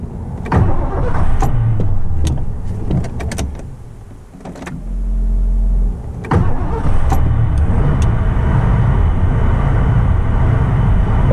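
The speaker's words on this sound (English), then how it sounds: "I'm in the car, and we're gonna try and start her up." A 1984 Ford LTD Crown Victoria under restoration, with a fuel pump fault: a click and whir, a brief cranking starter, then the engine catching into a steady, loud idle that continues.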